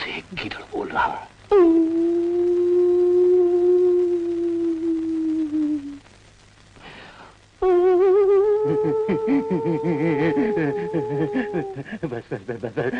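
A long, wavering howl imitating a jackal in the distance, given in two drawn-out calls separated by a short pause, with breathy vocal sounds before and after; a human voice is performing the howl.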